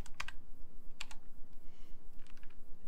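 Computer keyboard key presses entering ZModeler shortcuts during 3D modeling in ZBrush, a few crisp clicks in short bursts with pauses between them, close and clear over a low steady background hum.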